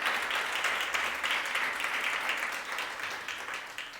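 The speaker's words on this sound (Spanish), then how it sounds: "Dele un fuerte aplauso al Señor." Steady, dense applause from a large church congregation fills the whole stretch, loud and continuous with no voices standing out.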